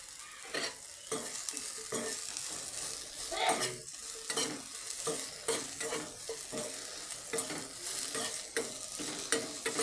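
Soybean chunks sizzle steadily in a pan of oil while a spatula stirs and scrapes them in repeated, close strokes, each stir giving a brief scraping clatter over the constant frying hiss.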